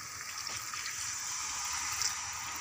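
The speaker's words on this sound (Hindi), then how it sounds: "तो मैं इसके में पानी डाल रही हूँ" Water poured into a pan of aloo soybean curry gravy, a steady, continuous hissing gush close by, lasting throughout with no talk.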